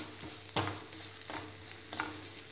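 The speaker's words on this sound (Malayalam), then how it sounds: "ഇതിലേക്ക് കുറച്ച് ഉപ്പും കൂടി ഇട്ടിട്ട് ചെറുതായിട്ട് ഒന്ന് ഉറവാട്ടിയെടുക്കാം." A chicken filling with salt for chicken rolls, stirred and sautéed in a pan, giving a low sizzle with a few scraping stirs in quick succession, close and soft.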